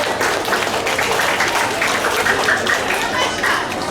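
A crowd applauds steadily and fairly loudly at a school recitation competition, a dense wash of clapping that holds throughout with a few voices mixed in.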